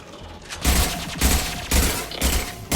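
Gunfire in the video game Mass Effect 2, four loud bursts of rapid shots with brief gaps between them, close and dense over a constant background hum.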